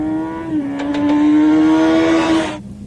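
A motorcycle engine pulls hard out of a corner, its loud, steady rising whine climbing in pitch for about two and a half seconds before cutting off abruptly.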